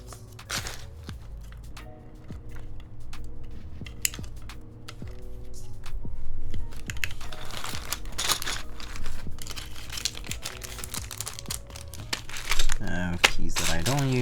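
EnjoyPBT Blue Blink PBT keycaps being handled during a Pixelspace Capsule keyboard build, with scattered plastic clicks and rattles over a steady background hum while a person talks at intervals.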